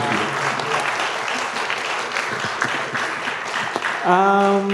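Audience applause after a guest lecture on AI and digital enterprise at a university, a dense wash of clapping from a roomful of students, steady and sustained, with a brief tonal voice or chime near the end.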